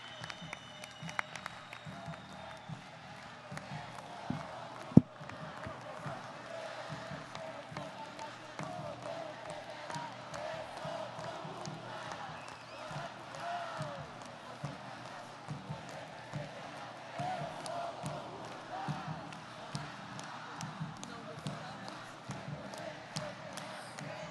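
An audience at a Brazilian union congress, the CSP-Conlutas meeting, applauds steadily and fairly faintly for the whole stretch, with a single sharp knock near the start and no clear talk over it.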